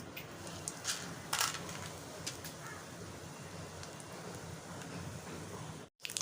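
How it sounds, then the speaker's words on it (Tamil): Mustard seeds, fennel and dried red chillies temper in hot sesame oil for a raw mango thokku, with a soft, steady sizzle and scattered sharp pops and crackles at low volume. "இப்போ எடுத்து வச்சுருக்க கடுகு, கொஞ்சம் சோம்பு, வரமிளகாய் போட்டு தாளிச்சிடலாம்."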